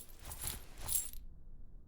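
Keys fall and jingle in the video game The Raven Remastered, a faint, brief metallic clatter of two quick chinks before falling silent.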